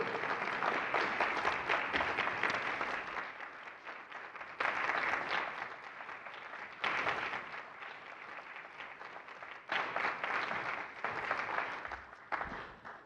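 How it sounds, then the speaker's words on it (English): Audience applause at the 2024 Adela Dwyer–St. Thomas of Villanova Peace Award ceremony, a dense roomful of clapping in several surging bursts that swell and fade over the span. "let's give a round of applause also to Laura Hayes"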